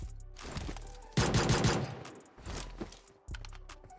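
In the mobile battle-royale game PUBG Mobile, weapons fire in single-shot mode, giving bursts of rapid, loud, close shots separated by short pauses, with no voices.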